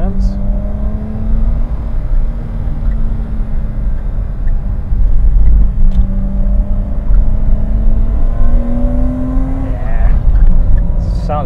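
A 35-year-old BMW E30 engine pulls hard uphill in second gear along small country roads, its drone rising steadily in pitch under full throttle from inside the car, with no talk.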